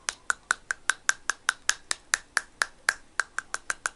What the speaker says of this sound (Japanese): でこう膝とか叩いてもこういうっていう音